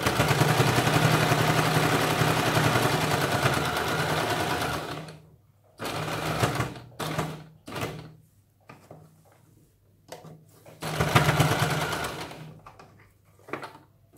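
A sewing machine runs a long, steady stretch of stitching along the folded edge of a princess-cut blouse, then stops and starts in short bursts with pauses and fabric handling between runs.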